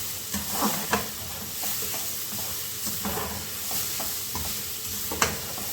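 A cube of butter and chopped onion sizzle in a pan while a utensil stirs them, with a steady frying hiss and occasional scrapes and clinks, close and without speech.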